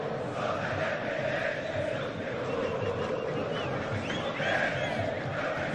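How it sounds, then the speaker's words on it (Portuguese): São Paulo supporters chanting in a stadium during a match against Corinthians, a dense, continuous roar of massed voices singing together at a distance, steady and full throughout. "E a torcida do São Paulo aproveita para cantar."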